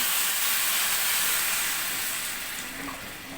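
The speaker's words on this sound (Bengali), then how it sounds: "এখন আমি দিয়ে দিব পরিমাণ মতো পানি" Water poured into a hot pan of fried biryani ingredients sets off a loud, steady steaming hiss up close that slowly eases off as it settles.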